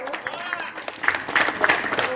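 An audience claps at a gurukul gathering in Kolkata, with scattered applause swelling over the second half while a voice carries on over it.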